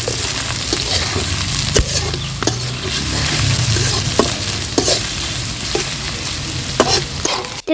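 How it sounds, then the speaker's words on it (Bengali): Onions and chillies fry in oil in a wok, a steady loud sizzle with repeated sharp stirring clicks and scrapes throughout. "কড়াইয়ে একটু তেল দিয়ে দেওয়া হলো তেলটা একটু গরম হলে এর মধ্যে পেঁয়াজ মরিচ সবগুলো উপকরণ দিয়ে দেওয়া হবে"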